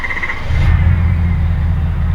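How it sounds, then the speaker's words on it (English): A 2016 Ford 6.7 Powerstroke diesel cranks briefly, then catches and settles into a loud, steady low rumbling idle close by, with no talk over it. "she fires up"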